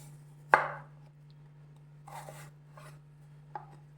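A knife slicing onion on a cutting board gives one sharp chop, then a few softer cuts and scrapes, close up in a quiet kitchen with a low steady hum behind.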